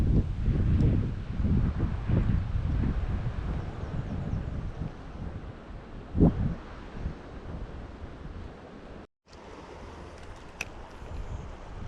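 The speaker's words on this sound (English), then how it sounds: "Starting to get windy." Steady wind gusts past a spring creek during bass fishing, roaring in uneven bursts of microphone buffeting. The rushing noise fills the background, and one short dropout breaks it.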